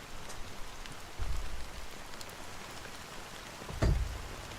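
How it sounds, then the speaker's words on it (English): Steady rain falls in a video game, a continuous soft hiss of drops with a couple of brief low thumps, heard alone without talk. "how long has this rain been going on for?"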